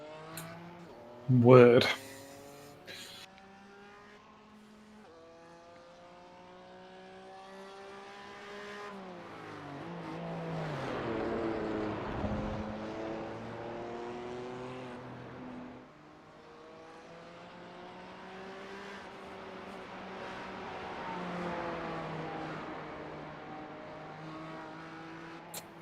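Race car engine in the iRacing sim at Barcelona during a 12-hour endurance race, a steady droning whine rising and falling through gear changes, heard under someone talking throughout.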